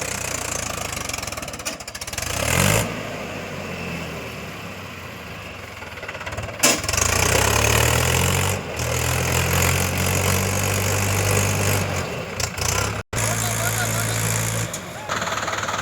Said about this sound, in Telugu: వచ్చింది మా బండి.